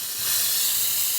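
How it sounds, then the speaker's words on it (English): Strong steam rushes from the wand of a La Pavoni lever espresso machine as one loud, continuous hiss, close up and with no other sounds. "And nice strong steam."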